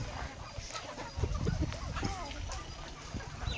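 Several Sonali and native chickens cluck softly nearby in short, scattered bursts over faint outdoor background noise.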